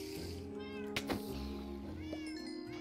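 Minecraft cat meowing in a German-language play session, a few short tonal meows with rising and falling pitch, close and clear over a low background hum, with no speech.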